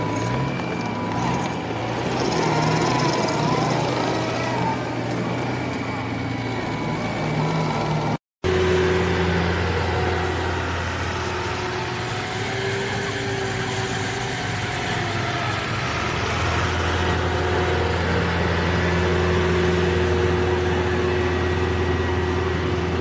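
A tractor in a truck and tractor pull at Orange, Virginia, roars with a loud, sustained engine drone that holds steady, cuts out for a brief instant, then returns and keeps pulling hard.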